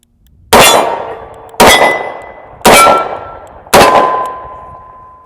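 A Smith & Wesson 640 revolver fires four .38 Special rounds, each a loud, sharp crack with a ringing decay, spaced about a second apart.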